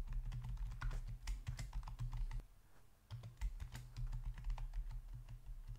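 JavaScript code being typed on a computer keyboard: rapid, uneven clicking keystrokes with a brief pause midway, close and clear, no talk.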